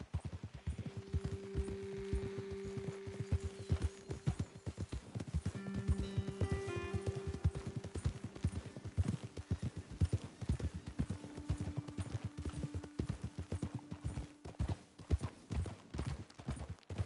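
Horse hooves clip-clop steadily through Red Dead Redemption 2, a dense unbroken patter of footfalls from more than one mount, with brief snorts and tonal game sounds mixed in.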